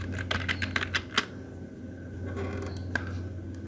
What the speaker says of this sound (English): we will type router RIP, and then we will type network